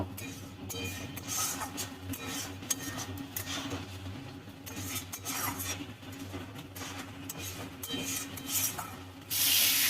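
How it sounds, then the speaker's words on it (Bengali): Rohu fish curry masala with a little water stirred and sautéed in a pan, a steady close rubbing and scraping of the spatula with faint sizzle underneath that runs without pause and no voices. "এর মধ্যে সামান্য পরিমাণে জল দিয়ে দেব কষানোর জন্য, ভালো করে কষে নেব।"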